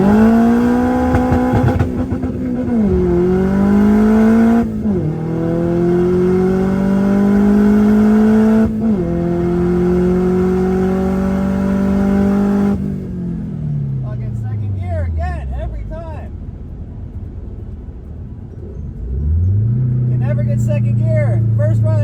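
An Acura drag car revs hard and launches, engine pitch climbing through repeated gear shifts for about thirteen seconds before dropping off, then another engine swell near the end; loud and close, with no talk over it.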